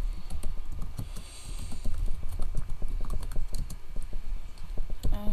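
Horse hooves clip-clopping in the Minecraft video game, a steady run of quick, sharp taps that keeps going throughout at moderate loudness with no talk over it.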